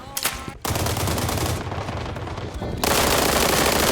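Rapid, loud bursts of automatic MPX submachine gun fire in the game World War 3, firing continuously and growing even denser toward the end.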